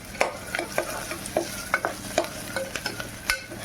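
Onion frying in a pan until reddish-brown, with a spoon or spatula scraping and stirring in repeated short strokes over a faint sizzle, close and fairly quiet.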